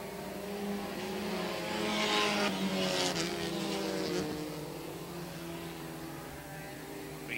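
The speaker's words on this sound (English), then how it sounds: "Joyle now starting to close in on the second place car of Laporte" Race cars circle a track during a race, their engines a sustained distant roar that swells as the pack passes by and then fades back to a steady drone.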